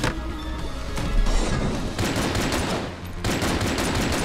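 Dense volleys of gunfire and bullet sprays from a flying enemy in the video game Enter the Gungeon, rapid overlapping shots and crashes filling the whole stretch at steady loudness.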